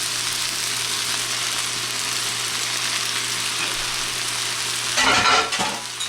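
Egg cooking in a hot pan of fried rice with soy sauce, a loud, dense, continuous sizzle throughout, then a brief surge of stirring and scraping near the end, with no talking.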